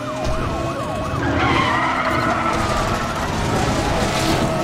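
Tyre screech of a car skidding in the racing game Need for Speed The Run, a sustained loud squeal over steady engine roar, with a wavering siren rising and falling early on.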